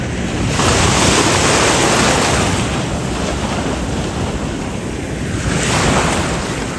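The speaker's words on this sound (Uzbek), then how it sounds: "O'zi dengiz o'ynayapti. Hozir qayerdan bir to'lqin keladi yana." Open-sea waves at Alanya surge and break on a rocky shore, a loud continuous roar swelling twice, with strong wind buffeting the microphone throughout.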